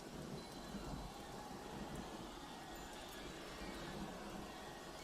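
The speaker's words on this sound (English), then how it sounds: "Hearing the rain tone." Steady rain falls in a continuous soft wash, joined by a low, rumbling undertone like distant thunder, faint and even throughout.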